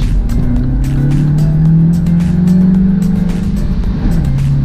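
A 2019 Mini Cooper S hatchback's turbocharged engine revs through gear changes with rev matching, a loud, close, continuous drone rising and falling in pitch, with a brief dip and return near the end.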